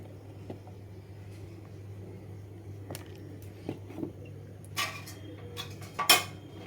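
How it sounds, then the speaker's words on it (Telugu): A lid is set carefully on a hot pack container holding wood apple rice, giving faint scattered clinks and taps over a low steady hum, ending in a slightly louder clatter. "కొద్దిగా జాగ్రత్తగా మూత పెట్టుకుందాం"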